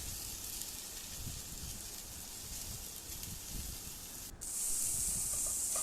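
Spice paste sizzling as it fries in a pan for a banana flower and soybean curry, a steady close hiss that briefly dips, then returns brighter and louder.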